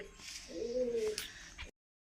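A soft, low pigeon coo, from a Bangladeshi breed female, rolls out once in a quiet outdoor setting in the morning, faint and fairly close, before a brief silence.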